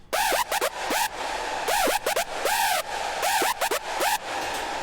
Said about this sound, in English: this screech is just a plain hardstyle screech